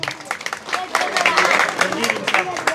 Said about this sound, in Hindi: इसके लिए एक बार ताली बजाते जी।